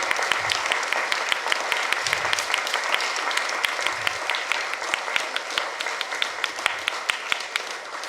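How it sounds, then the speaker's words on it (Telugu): An audience at a meditation health workshop claps loudly and steadily for about eight seconds, a dense, even roar of many hands. "వారికి ఒకసారి గట్టిగా చప్పట్లు కొడదాం."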